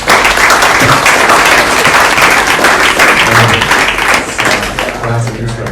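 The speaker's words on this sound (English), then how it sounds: "let's have a warm round of applause for a friend and a leader in the global community, Hugh Madden." Audience applause and clapping at a keynote introduction for a crypto industry conference, loud and sustained throughout, with a crowd clapping steadily and occasional voices underneath.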